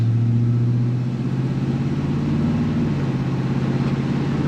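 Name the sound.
Chevrolet C10 pickup truck accelerating after braking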